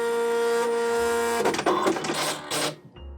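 A vintage Apple ImageWriter II dot-matrix printer printing banners: a steady whining motor tone, then rapid buzzing bursts of the print head with mechanical clatter and carriage movement, ending in a brief low thump, close and loud.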